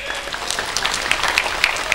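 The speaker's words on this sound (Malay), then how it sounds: "tepuk tangan untuk ngaglek" An audience at a public Islamic religious gathering claps in steady, fairly quiet applause, with individual claps standing out and faint murmuring underneath.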